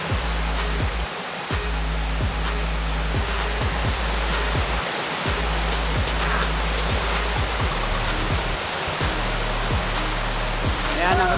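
Sulcok Falls in Vintar, Ilocos Norte, a waterfall roaring in a steady, dense rush that fills the whole scene without pause, loud and close, with no voices over it.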